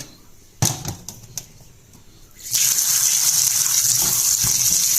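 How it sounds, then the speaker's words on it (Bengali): Tomatoes rinsed under a running kitchen tap, a few light knocks and splashes at first, then a steady loud gush of water that continues to the end, with no talking. "আমি এখন এই টমেটোগুলোকে ভালো করে ধুয়ে নেব।"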